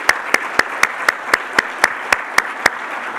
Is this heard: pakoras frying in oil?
no